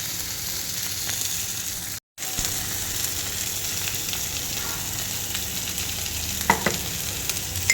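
Tomatoes fry in a pan for a chicken tikka masala. A continuous dense sizzle fills the scene, cut off by one brief near-silent gap. Scattered clicks of stirring join in, with a few sharper knocks toward the end. There is no talk.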